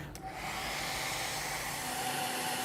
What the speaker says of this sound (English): we can heat this with a hairdryer, actually